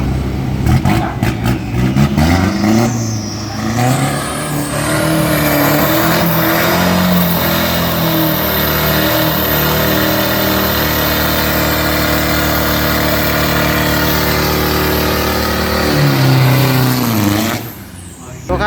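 An Isuzu 1.9 turbo race car engine on a circuit accelerates hard, its loud revving climbing steadily through a long pull before cutting off, with an announcer's voice heard over the start.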